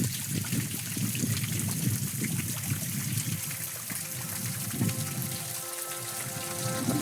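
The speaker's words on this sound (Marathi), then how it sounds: "हा बघा छोटासा धबधबा" A small waterfall on the Peb fort trek, its flow nearly spent, gives a steady, soft trickle and splash heard up close and alone, with a faint tonal hum near the end.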